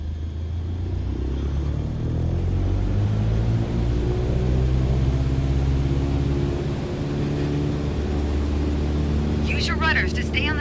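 An aircraft engine runs at full takeoff power in Microsoft Flight Simulator 2020, a steady loud drone and low rumble holding throughout, with a brief higher whine near the end.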